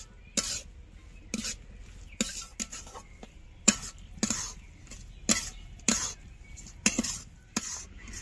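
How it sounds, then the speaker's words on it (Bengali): Sweet semolina filling sweetened with date jaggery is stirred in a pan, a spoon scraping in repeated short strokes, roughly one every half second to second, close and fairly quiet with no talking. "এবার ভালো করে নেড়ে নেড়ে পুরটা তৈরি করব।"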